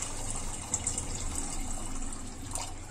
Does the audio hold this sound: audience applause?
no